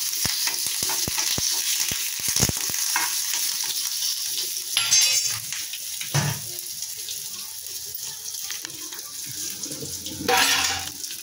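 Curry leaves and spices crackle and sizzle in hot oil for tempering, with sharp pops early on, followed by a steady frying hiss and occasional bursts of spattering.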